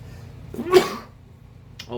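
A single sharp cough bursts out close to the microphone, brief and loud, with only quiet background around it.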